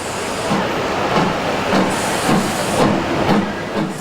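Steam locomotive at Llangollen station hisses steadily and loudly, with repeated soft chuffing pulses rising and falling over a constant rush of steam.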